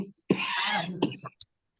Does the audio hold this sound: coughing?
yes